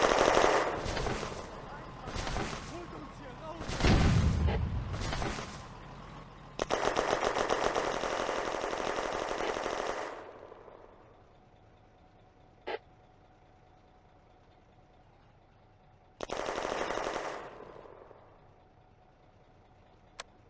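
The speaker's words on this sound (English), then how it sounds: "The Granatwerfer re-engages the Soviet heavy machine gun." Machine gun and mortar fire in a WWII Eastern Front video game battle, with a Soviet heavy machine gun and a German Granatwerfer mortar: loud bursts of automatic fire and booming blasts in clusters, a long sustained burst, a single sharp crack, then one more burst.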